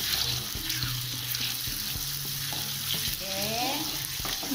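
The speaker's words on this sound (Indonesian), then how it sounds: "yang pertama digoreng adalah bawang merah guys" Shallots sizzle and crackle steadily in frying oil throughout, with occasional clinks and scraping as they are stirred in the pan.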